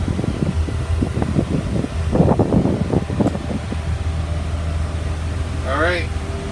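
A 2004 Blue Bird 72-passenger school bus engine runs close by with a steady fan-like hum and a brief burst of revving, and someone speaks over it near the end.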